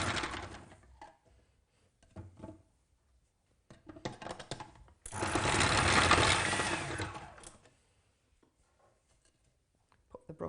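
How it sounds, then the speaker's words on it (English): A food processor fitted with a grater attachment runs in one loud, steady whirring burst of about two and a half seconds, blending fish to a smooth puree for a child, with quieter kitchen knocks before and after. "So I've just got this on the grater attachment"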